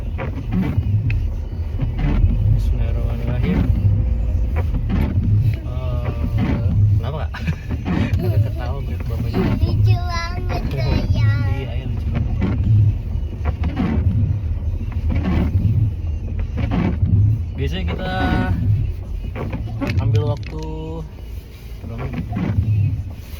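A family car drives through town while people talk inside it almost continuously, the engine and road noise forming a constant low rumble beneath the voices.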